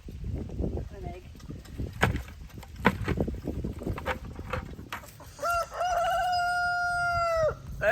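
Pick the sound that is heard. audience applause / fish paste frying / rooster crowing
rooster crowing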